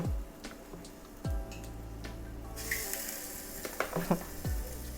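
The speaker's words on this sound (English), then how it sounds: "Yeah, you can hear the sizzles." Minced pork, mushrooms or chicken thighs sizzle softly on a hot oven tray, with scattered clicks and light metallic knocks over a low, steady hiss.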